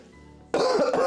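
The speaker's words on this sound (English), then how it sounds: "How much coughing are we doing today?" A single harsh cough breaks the quiet, sharp and close, followed by a rough throat-clearing rasp.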